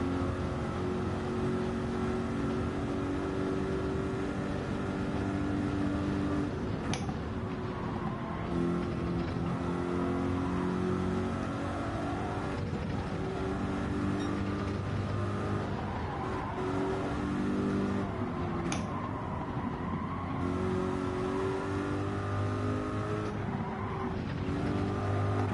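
An LMP prototype race car roars past in a racing video game during a 24-hour race, with a constant loud engine drone, occasional tire squeal and shifts in pitch as cars pass.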